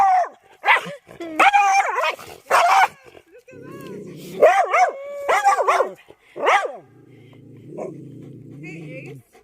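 A dog on a forest hike near Nairobi barks and yips in several short bursts, close and loud, mixed with whimpering. A person talks between the barks.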